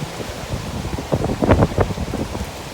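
Strong storm wind gusting outdoors among trees, a loud broadband rush that swells and buffets the microphone in bursts, with possible rain mixed in and no talking.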